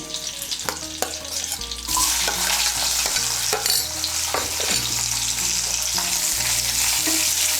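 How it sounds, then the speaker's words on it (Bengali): Chopped onion is stirred into hot oil in a pan, starting with scraping clinks of a spoon, then a loud, continuous bright sizzle as the onion fries, with repeated stirring scrapes over it. "পেঁয়াজ কুচিটাকে তেলের সঙ্গে মিশিয়ে নিয়ে লাল করে ভেজে নেব।"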